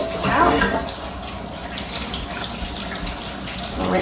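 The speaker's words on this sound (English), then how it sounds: "I'm going to come in and I'm going to rinse them again" Tap water runs into a kitchen sink while carrots are rinsed under it, splashing loudly at first and then flowing in a steady close stream.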